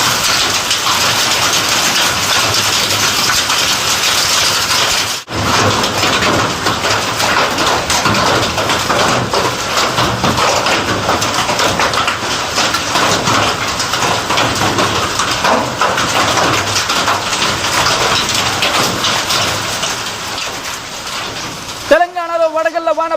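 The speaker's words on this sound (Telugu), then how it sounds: "సౌండ్స్ వింటే మీకు అర్థమైపోతుంది ఏ స్థాయిలో అక్కడ వడగళ్ల వాన దంచి కొడుతుంది అనేది." Heavy hail and rain lash down in Vemulawada, Telangana, a loud unbroken roar of pounding impacts close by, briefly dipping once and ending with a short burst of other noise.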